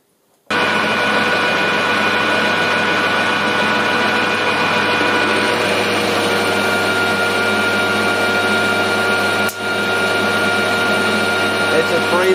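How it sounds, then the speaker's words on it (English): A metal lathe machines a spindle down to 12 mm for threading, taking a 3 mm cut. It gives a steady, loud broadband whir and grind that runs almost unbroken, with one brief dip near the end. "we're going to machine this down for this length to 12 mil for threading"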